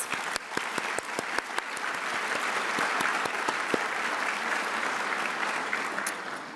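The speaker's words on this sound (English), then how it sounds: "Let's give them all a huge round of applause." A large audience at an awards luncheon breaks into sustained applause, a dense, steady roar of clapping with sharp individual claps standing out near the front.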